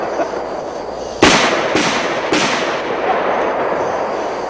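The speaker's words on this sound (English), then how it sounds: "watch the gun in recoil when I shoot it" Three loud, close pistol shots firing full metal jacket bullets, each a sharp crack with a long ringing decay, spaced about half a second apart with no talking.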